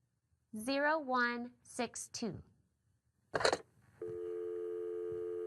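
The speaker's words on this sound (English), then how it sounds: "is a dial tone." A steady, continuous telephone dial tone begins partway through and holds to the end. It follows some speech and a short burst of noise.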